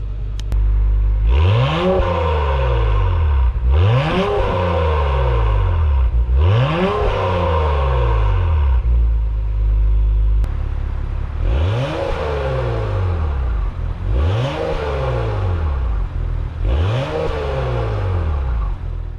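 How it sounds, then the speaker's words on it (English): Exhaust of a 2021 Acura TLX Type S heard from just outside the car as the engine is revved six times, each rev rising quickly in pitch and falling back, loud and close with brief idle gaps between. "We'll get some exhaust clips."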